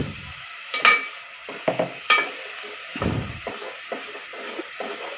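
Masala for a dhaba-style egg curry is stirred and fried in a pan, with a soft sizzle under repeated scraping and clinking strokes of a spoon against metal, close and moderately loud.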